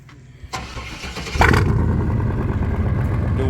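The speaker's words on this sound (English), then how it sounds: "Hey, y'all listen to this exhaust right here." GMC Sierra 1500 pickup fitted with a Rough Country dual cat-back exhaust starting up, a sharp catch followed by a loud, rough, steady idle rumble close by.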